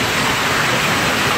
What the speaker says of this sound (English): This is a continuation of the hailstorm.